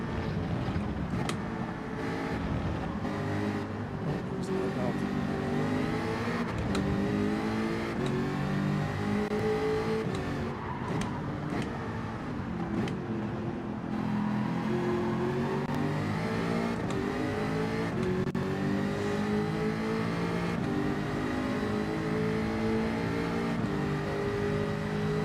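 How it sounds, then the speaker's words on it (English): Jaguar race car engine in Gran Turismo 7 revs continuously, pitch climbing and falling through gear changes over a long stretch, with a steady, fairly loud whine and no voices. "Nice little car to drive, that Jaguar. It sounds really good."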